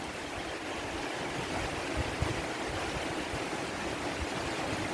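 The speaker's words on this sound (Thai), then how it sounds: "เจอฝนฟ้าถล่มอย่างนักอีแล้ว" A constant hiss of heavy rainfall, broad and even like rushing water, filling the whole stretch with no speech.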